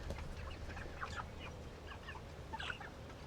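Several chickens, including large roosters and hens, cluck and murmur in a steady overlapping chorus, moderately close, with a low background hum and no talking.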